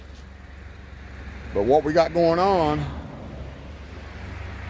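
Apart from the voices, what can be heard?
road traffic noise beside roadside fishing spot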